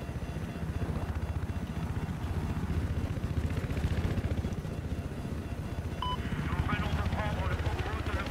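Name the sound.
attack helicopter in video game Battlefield 4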